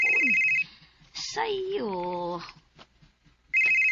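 A cellphone rings with a bright repeating electronic tone at the start and again at the end, loud and close, while people talk and one voice carries a long sung or drawn-out phrase in between.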